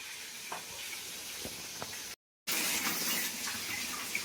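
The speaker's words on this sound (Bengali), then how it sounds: "চিংড়ি মাছ করবো কচু দিয়ে, তাই চিংড়ি মাছটা একটু ধুয়ে নিচ্ছি ভালো করে" Shrimp being washed under a running tap for a taro and shrimp dish, a steady close hiss of flowing water, broken briefly by a short gap, with small splashes and knocks in the sink.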